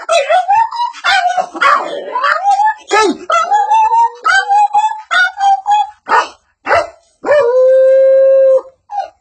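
Dogs squabbling over a meal of rice, loud and close, with a burst of sharp yelps, whining howls and snarling barks rising and falling in quick, uneven bouts.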